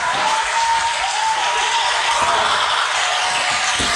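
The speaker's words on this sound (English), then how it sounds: "Thank you, ladies and gentlemen, for that applause." A studio audience breaks into dense, sustained applause, loud and close, a continuous wash of clapping with no pause for the full span.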